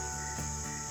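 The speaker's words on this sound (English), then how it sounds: "You can hear some bugs" Insects chirp steadily beside the Roanoke River in late summer, a continuous high, faint buzzing drone with no talking.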